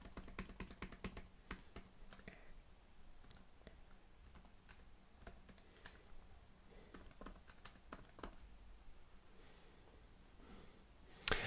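Quiet, close keystrokes come in irregular bursts as test payment details are typed on a computer keyboard, with soft clicks and pauses between words and a sharper tap at the end.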